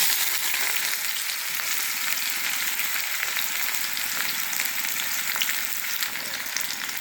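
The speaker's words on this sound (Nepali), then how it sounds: "अब प्याज हालिदिने।" Onions hit hot oil with blackened fenugreek seeds in a pan, a dense, loud, continuous crackling sizzle that stays even throughout with faint stirring under it and no talk.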